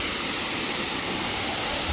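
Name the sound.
Rimbi waterfall flowing, Sikkim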